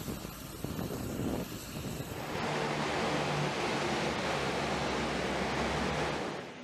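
A US Navy LCAC hovercraft runs with a broad, roaring rush of engine and fan noise that swells and holds steady, heard from a distance without voices.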